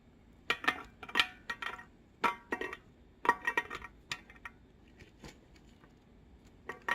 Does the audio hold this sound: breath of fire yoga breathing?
no